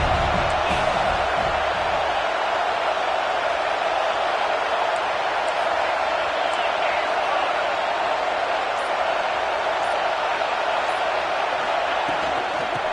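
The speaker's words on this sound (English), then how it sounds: "This crowd bringing the energy and noise early." A stadium crowd at a football game roars with loud, dense, sustained cheering and noise that stays constant throughout, with no breaks.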